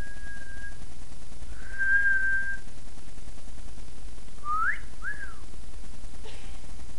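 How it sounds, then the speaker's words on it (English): A person whistles to get someone's attention: a short steady tone, then a longer held note, followed by two quick rising-and-falling whistles, moderately loud over a steady background hum. "The only way I can get his attention is to whistle at him."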